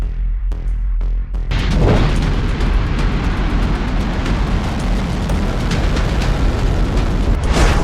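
A North Korean missile launch and explosion erupts after a few faint pops, becoming a loud, sustained roaring rumble with throbbing low blasts that fills the whole stretch.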